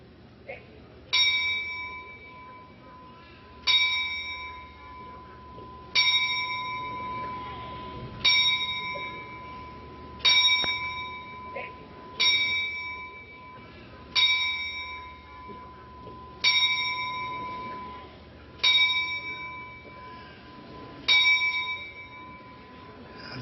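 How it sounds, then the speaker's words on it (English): A wrestling-event timekeeper rings a bell ten times in a ten-bell salute, each clear ding ringing out and fading before the next at a slow, even pace in a hushed arena. "we'd like to have 10 bells from the timekeeper."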